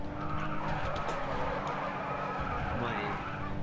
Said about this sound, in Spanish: me ha reventado el coche totalmente